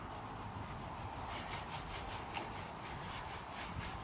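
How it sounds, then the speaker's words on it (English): Steel wool scrubs paint off a surface on a StarCraft Chieftain camper under rebuild, a steady rasping rub with rhythmic back-and-forth strokes, close and alone. "Just rip off a steel wool, I guess."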